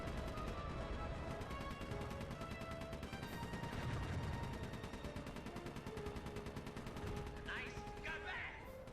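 Rapid gunfire in the stealth-action game Sly 3: Honor Among Thieves, a continuous stream of quick shots over busy game music and effects, steady and moderately loud throughout.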